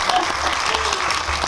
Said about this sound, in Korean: 여기서 박수 한번 쳐주실래요?